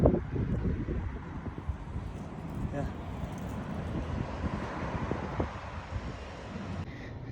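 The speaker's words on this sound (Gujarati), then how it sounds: "એવો મસ્ત પવન છે ઠંડો બંડો મસ્ત પવન આવે" Wind blows outdoors at night after rain, a steady gusty rush buffeting the microphone, with a voice talking faintly beneath it.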